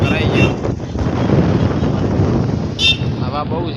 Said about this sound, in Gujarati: હવા બહુ છે।